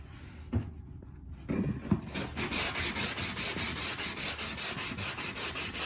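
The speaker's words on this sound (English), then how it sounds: "The tool shop Orbital is very good." Tool Shop orbital sander working on drywall repair, starting with light scraping touches before settling into a steady, close, pulsing whir that rises and falls in regular rapid waves, with no voices.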